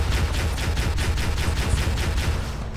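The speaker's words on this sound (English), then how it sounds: "Something is shooting me from across the map with seemingly unlimited range." Rapid sustained gunfire from the Halo video game, a steady dense stream of evenly spaced shots, loud and continuous throughout with no pauses.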